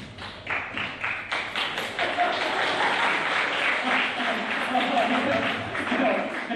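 Applause in a dramatic scene, a dense patter of many hands clapping continuously and fairly close, with speech mixed over it.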